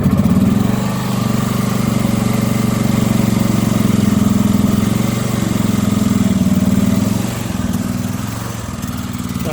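Westwood Gazelle W11 garden tractor engine, fresh from winter storage with choke applied, runs at a steady loud idle throughout, close by, with a slight dip in pitch near the end and no talking.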